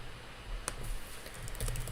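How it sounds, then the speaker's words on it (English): Quiet keystrokes tap on a computer keyboard while entering book details into library management software, a few faint clicks over soft background hiss. "it's up to us to start typing that information in"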